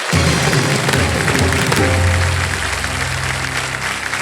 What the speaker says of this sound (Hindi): तालियां बज जाए जोरदार